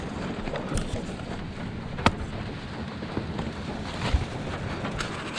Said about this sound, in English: I can feel the hut shaking from up here, it's that windy.